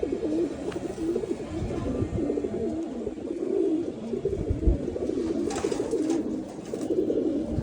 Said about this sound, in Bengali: এটা অনেক পুরনো কালাগোলা কবুতর